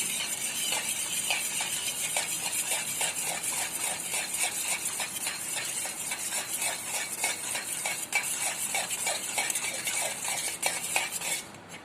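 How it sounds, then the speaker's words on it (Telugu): Three eggs are whisked in a bowl, a fast, continuous run of rhythmic metallic scraping and light clinks of utensil against the bowl, fairly close and steady throughout. "ఈ 3 eggsని బాగా మిక్స్ చేసుకున్నాం"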